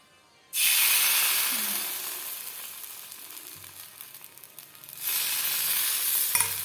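White pitha rice cakes sizzle and hiss steadily in hot oil in a pan, fading slightly before the frying swells loud again near the end.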